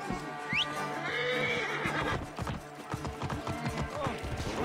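A horse neighs loudly in Assassin's Creed Origins, a long whinny near the start, followed by a rhythmic clatter of hooves and other game sounds, with voices speaking over parts of it.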